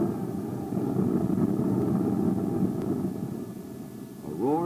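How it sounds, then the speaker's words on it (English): The Bell XP-59, America's first jet-propelled airplane, runs its jet engines in the desert with a steady, muffled roar that holds throughout before a rising, swelling whine near the end. "the desert calm was shattered by the roar of jet engines"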